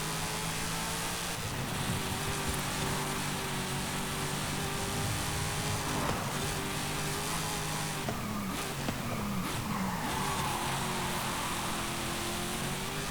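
A Cadillac CT5-V Blackwing races in S1 class in Forza Horizon 5, its engine droning steadily and loud, pitch dipping and climbing through gear changes and cornering, with no talk over it.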